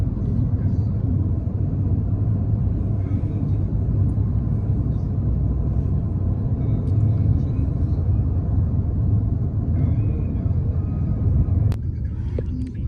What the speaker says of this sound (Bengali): আজকে রাস্তায় এত জ্যাম